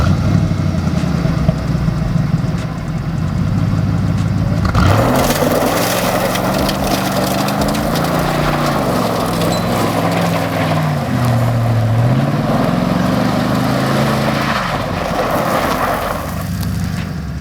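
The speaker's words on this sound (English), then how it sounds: "We also cut the exhaust off after the catalytic converters, which gave the car a nice, low, rumbly sound." A loud, low 1991 Mercury Grand Marquis engine rumble through exhaust cut off after the catalytic converters, idling then revving up and down in waves with a throaty, open tone.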